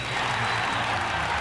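Audience applause at a hairdressing competition show, a dense wash of clapping that stays loud and even across the short stretch, with no voices over it.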